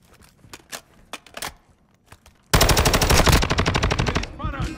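Gunfire in the video game Call of Duty: Modern Warfare II: a few scattered shots, then a loud, sustained burst of rapid automatic fire that runs to the end.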